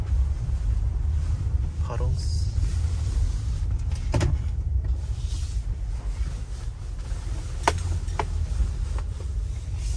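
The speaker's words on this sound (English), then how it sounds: "we need to drive through these" A first-generation Toyota Sequoia drives along at steady speed, its low engine and road rumble constant throughout, with a few brief splashes and clunks as it rolls through puddles; voices talk now and then under the noise.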